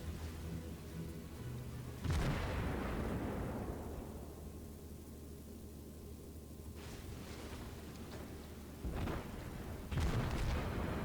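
Heavy naval gun salvos from a destroyer in the video game World of Warships, deep booming blasts with long rumbling tails, a few spaced shots at moderate distance over a steady ship hum.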